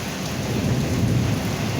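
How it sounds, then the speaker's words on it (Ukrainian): Heavy rain pours steadily with deep rumbling thunder rolling beneath it, no voices. "І таке враження, що кінця і краю не буде цьому дощу, що буде лить і лить, гримить, свистить."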